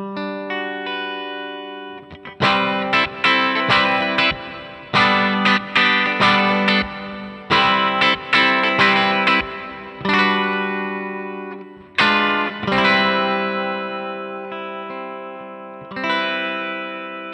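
Electric guitar played through a Boss RV-6 reverb pedal, strummed chords ringing out with long washy tails that fade between strikes, loud and close with no talking.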